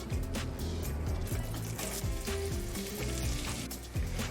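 Onions frying in butter and olive oil in a Dutch oven, with a dense, continuous sizzle and occasional stirring scrapes, heard under loud background music.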